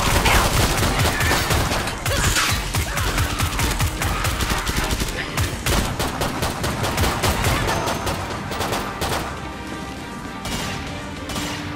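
Dense, rapid gunfire from Killing Floor 2 rattles continuously in overlapping bursts of shots and impacts, loud and close, with a voice briefly under the barrage.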